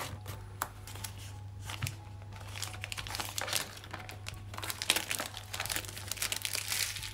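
Packaging for AirPods-clone earbuds is torn and opened close up, with repeated sharp crinkling and ripping bursts over a low steady hum.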